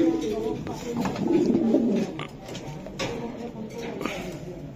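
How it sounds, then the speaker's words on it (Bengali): Racing pigeons at a farm coo in low, rolling murmurs close by, several birds overlapping in a soft continuous burble, with someone talking over them. "অরিজিনাল রেসার কবুতর ভাই।"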